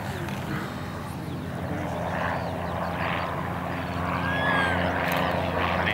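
A propeller-driven aircraft drones steadily overhead at an airfield, a broad continuous engine hum that holds at a moderate level and swells slightly toward the end, with faint voices in the background.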